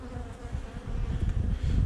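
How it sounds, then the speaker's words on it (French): Agitated honeybees swarm around an open hive while a colony split is being prepared, a dense, continuous low buzzing that swells slightly and stays close throughout. "elles sont toutes vénères les abeilles"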